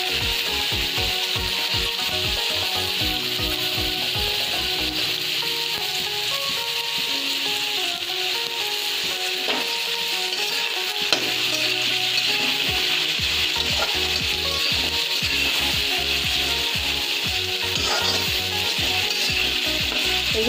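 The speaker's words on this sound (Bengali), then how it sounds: "সবার প্রথমে আলু ভেজে নেব।" Potatoes frying and sizzling in a pan for a desi-style chicken pasta, with a steady hiss throughout and repeated scraping, rubbing stirs of a utensil against the pan, close and continuous with no talking.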